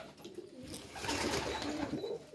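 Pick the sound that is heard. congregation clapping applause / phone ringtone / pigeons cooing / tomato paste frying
pigeons cooing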